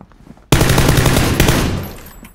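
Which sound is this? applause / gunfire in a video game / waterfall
gunfire in a video game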